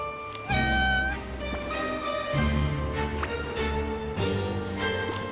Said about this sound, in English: The cat said... Wait, I didn't understand a word this time.